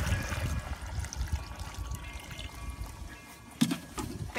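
Water poured into an upturned chicken drinker, a continuous trickling, splashing flow close by that eases off toward the end, followed by a brief knock of handling.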